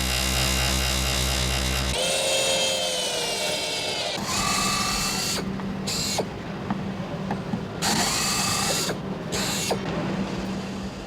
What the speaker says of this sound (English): The drills, which have bitten it into shape over 3 years, are working faster and faster